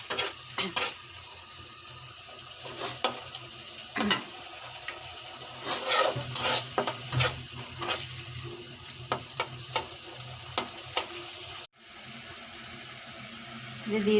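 Garlic sizzles in hot oil for a dal tempering, a steady frying hiss punctuated by frequent clicks and scrapes of stirring, ending in a sudden brief drop before the sizzle resumes.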